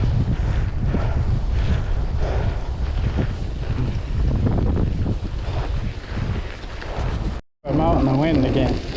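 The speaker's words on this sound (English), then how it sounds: "I'm out in the wind again" Strong wind roars across the microphone on a bike ride on a State 4130 All Road, a constant heavy rumble with gusty swells and one brief dropout near the end.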